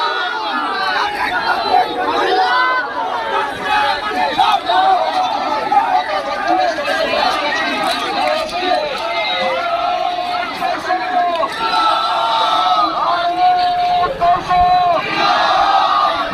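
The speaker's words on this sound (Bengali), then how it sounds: "বিরাট বড় বিক্ষোভ মিছিল এখানে চলে চালু হয়েছে" Protest march crowd in Mayapur, Arambagh, chanting against the Waqf bill: a loud, dense mass of voices shouting and chanting continuously nearby.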